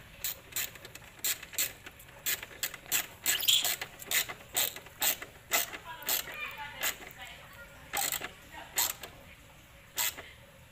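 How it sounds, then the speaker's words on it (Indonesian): A wrench ratchets a bolt tight under a Toyota Etios taxi during an oil change, giving repeated close, crisp clicking bursts in an uneven rhythm with short pauses between strokes. "tinggal kita kencangkan bawahnya ya"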